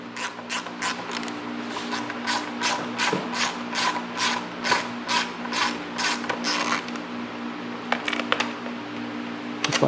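Ratchet with an 8 mm socket backing out two screws while fitting a tail tidy and integrated brake light on a motorcycle, a close run of quick rhythmic clicking bursts in short strokes with pauses between them.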